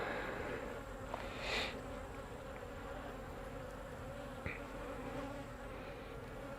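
Honey bees buzzing steadily during a hive inspection, a dense continuous drone close by, with a louder pass from a single bee near the microphone.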